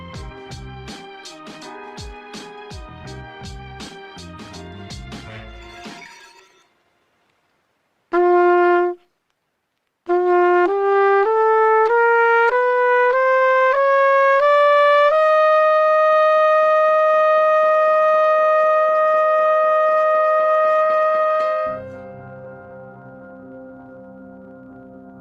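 A trumpet plays an ascending exercise that starts on G and climbs to a high F, with a quick run of short notes, a brief pause, then step-by-step rising sustained tones ending on a long held high note, with no talking.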